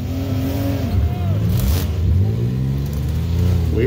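Demolition derby cars at Gravenhurst 2024 rumble and rev loudly and continuously, with engine pitch sweeping up and down and a brief burst of noise midway, while an announcer's voice carries over the din.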